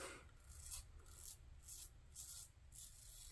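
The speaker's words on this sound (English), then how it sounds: "Yeah, this razor's working good." Razor shaving with a Krisp razor fitted with Winner blades, a soft rhythmic scraping of strokes across lathered skin, about five close strokes in a steady rhythm with brief pauses between them.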